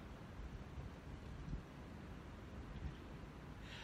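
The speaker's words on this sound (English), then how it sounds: "Oh, it's nice, but it is windy." Steady, low, rumbling wind buffets the microphone throughout, fairly faint and unbroken.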